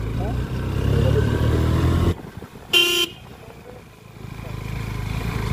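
A motorcycle climbs steep hairpin turns in first gear on a mountain road from Gangtok to Lachung in North Sikkim, its engine droning loudly before cutting out, with a short horn toot and voices in the background.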